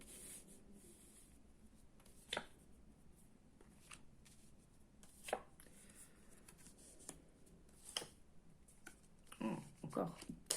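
Soft papery shuffling and rubbing of tarot cards close by, with a few sharp slaps and taps as the deck is handled and cut.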